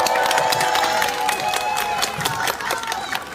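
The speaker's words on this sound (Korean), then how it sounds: "한 분 한 분 소개해 드릴 때마다 힘찬 박수와 함성 부탁드립니다." A crowd at an outdoor Democratic Party campaign rally at Suam Market in Ulsan claps and cheers energetically, a thick burst of applause with shouts that eases slightly toward the end.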